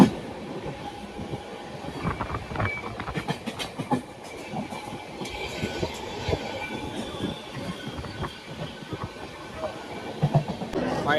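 Vande Bharat Express passenger train on the move, heard from inside: a steady rumbling roar with rhythmic wheel clatter on the rails, continuous and fairly loud throughout, with faint voices under it.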